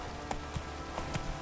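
Horse hooves clip-clop at a steady trot on a road in The Witcher 3, a few evenly spaced soft thuds over a constant ambient game background.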